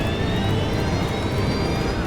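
KLM jet airliner bearing down on the runway in fog at nearly 200 miles an hour, a loud steady jet engine roar with a rising whine, dense and unbroken.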